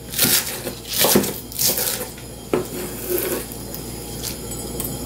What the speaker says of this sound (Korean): 파를 조금 썰어 넣겠습니다.